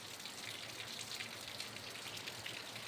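Rain falling during a storm, with water running off the roof eaves, makes a steady, quiet hiss and patter that continues evenly with no voices.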